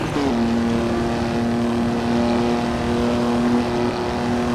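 A Formula 3 racing car engine in the Assetto Corsa video game, on the Nordschleife Sudschleife, drones at a steady high pitch, straining to climb in revs uphill without much change, loud and continuous with no talking.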